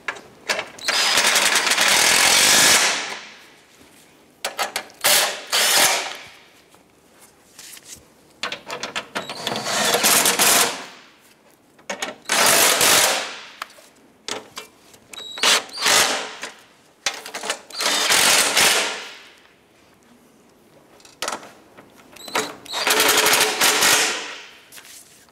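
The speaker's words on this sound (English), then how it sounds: "I'm gonna go ahead and tighten down all six bolts holding this bracket here." Bolts being tightened on a bumper bracket of a 2011-2018 Dodge Ram 1500 with a power tool, which gives loud repeated rattling bursts of a few seconds each, split by short pauses, over about nine runs.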